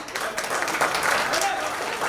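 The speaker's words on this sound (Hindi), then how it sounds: "फॉर ऑल प्लीज जोरदार तालियां" Applause at a sangeet wedding celebration for a couple, steady clapping from a gathered crowd filling the whole moment with speech mixed in.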